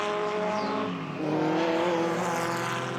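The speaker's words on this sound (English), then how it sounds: "late 50s, early 60s Grand Prix, Formula One Grand Prix cars" Historic pre-1966 Formula One Grand Prix cars from the late 1950s and early 1960s race at Donington. Engines rise and fall in pitch at a moderate distance, a car sweeping past with a brief dip before revving on.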